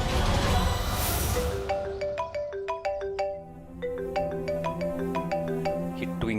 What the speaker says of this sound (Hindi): ये ट्विंकल क्यों फोन कर रही है इस टाइम?